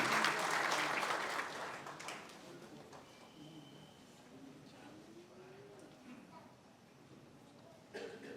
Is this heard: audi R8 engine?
no